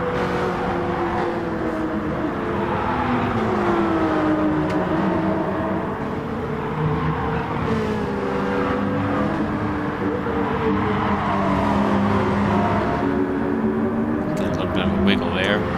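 Race car engines of a Peugeot and rival road cars in Gran Turismo Sport, a steady, loud drone whose pitch rises and falls through gear changes and corners, heard continuously with a voice talking over it.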